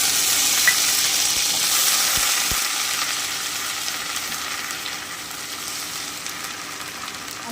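Onion paste sizzling and frying in hot oil over lowered heat, with dried red chillies already in the pan, for a prawn-stuffed pointed gourd dolma; a steady, dense crackle holds close and loud throughout with no one talking.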